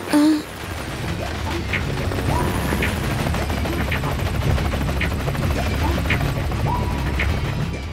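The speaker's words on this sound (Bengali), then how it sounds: "এই হেলিকপ্টার নিয়ে ট্রেনে কেন ল্যান্ড করছে?" A cartoon helicopter landing on a train: a steady mechanical rotor whir with rhythmic chopping clicks runs throughout the clip, loud and continuous, with a brief burst at the start.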